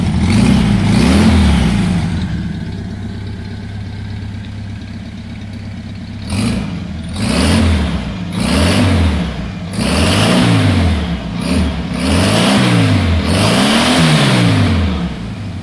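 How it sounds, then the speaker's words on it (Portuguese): A Volkswagen Beetle engine under restoration runs close by, idling steadily at first and then revving up repeatedly in rhythmic surges with mechanical clatter, and no voices are heard. "Motorzinho funcionando aí."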